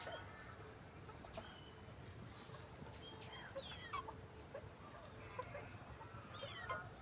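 Chickens cluck and call on a small farm, scattered short notes rising over a steady hiss of background noise, moderately distant and fairly faint.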